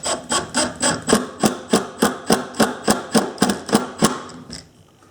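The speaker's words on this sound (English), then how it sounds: "let's just try whacking these screws back in" Screws are driven back into a wooden glass-marble mold on a woodwork lathe, a steady train of about fifteen evenly spaced, loud ratcheting clicks close by that stops abruptly at the end.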